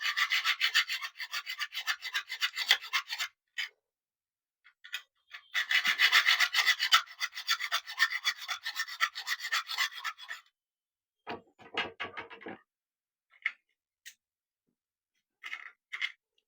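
Plastic casing of an MI power bank is cut open with rough, rasping strokes. The scraping comes in long, dense bursts separated by silent pauses, then shorter scrapes and a few isolated scratches, close and fairly loud.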